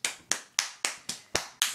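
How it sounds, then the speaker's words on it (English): Seven sharp, evenly spaced hand claps ring out close by in a steady rhythm, each a crisp snap with a short decay, from a small group or single person at home. "Please give another round of applause for him for recording."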